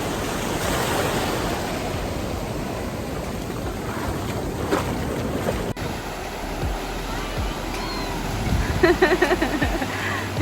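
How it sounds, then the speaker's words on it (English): Big ocean waves crash and roll at Arambol beach in Goa, a loud, constant surf roar mixed with wind buffeting the microphone. Heavier breakers surge near the end. "look at the size of the waves."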